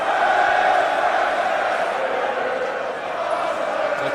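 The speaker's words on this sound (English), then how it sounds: "The crowd, perhaps because we are in England, are supporting Will Ospreay." A wrestling crowd in England roars in support of Will Ospreay during his match against Rey Mysterio, a steady wash of distant cheering and noise filling the arena without clear individual voices.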